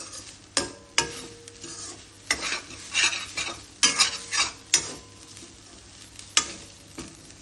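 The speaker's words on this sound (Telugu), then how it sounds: "అందుకు ఇలా గోకుతూ ఇలా కలుపుతూనే ఉండాలి." A spoon scrapes and stirs grated coconut frying in a pan, with sharp irregular scraping strokes over a low steady sizzle, close and alone without any voice.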